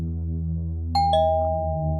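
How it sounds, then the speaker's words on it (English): A two-tone doorbell chimes once at a Halloween door, a bright ding followed by a lower dong that rings out and sustains over a steady background hum. "Thank you, trick-or-treaters, for ringing the doorbell."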